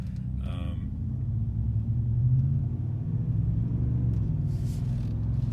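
Steady low drone from a 2022 Ford F-150 with the 5.0 V8 and Flowmaster Super HP2 exhaust, heard from inside the cab at normal road speed. The rumble is continuous and moderately loud, with a brief faint rattle early on.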